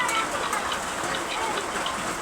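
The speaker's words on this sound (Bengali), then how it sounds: "বাইরে খুব জোর বৃষ্টি হচ্ছে" Heavy rain pours down outside a darkened veranda during a power cut, a dense, continuous hiss and patter that stays loud and even throughout, with no talking.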